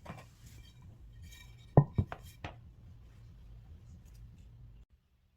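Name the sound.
covering earthenware jar with cloth and lid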